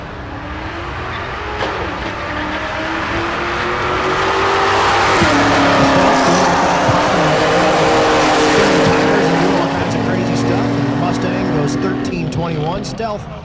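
A maroon Mustang and a Stealth drag race side by side down the strip at Tulsa Raceway Park, their engines roaring loud and sustained, swelling mid-run and then fading, with faint crowd and announcer sound mixed in.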